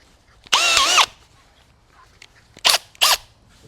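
Brushless power drills run against each other in a tool comparison test, with one loud whining burst of about half a second followed later by two shorter close revs, set against quiet.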